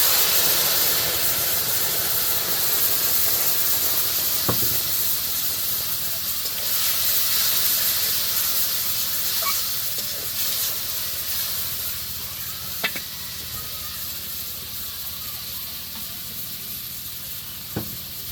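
Spice masala with cumin and a little cinnamon sizzles and fries in a pan for a village fish curry, a steady close hiss with occasional faint clinks from stirring.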